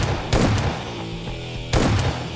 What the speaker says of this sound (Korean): 이거 진짜 총소리 나는데?